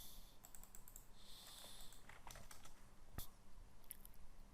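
Keys on a computer keyboard are pressed while typing, producing a scattered run of light clicks and taps at an uneven pace, fairly faint and with no one talking.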